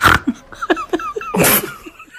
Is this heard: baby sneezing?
yes